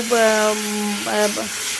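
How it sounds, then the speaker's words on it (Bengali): Water poured into a pan of semolina fried until reddish sets off a loud, hissing sizzle that holds steady, with a voice speaking over it. "তো পরিমাণ মতো এখানে জল দিয়ে দিচ্ছি জল দিয়ে সুজিটা একটু"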